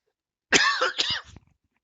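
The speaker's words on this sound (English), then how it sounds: "Oh, that was a cough." A single harsh cough, close and loud, lasting about a second with a rough burst at the start and a shorter second push, set in a quiet room during a tabletop role-playing game session.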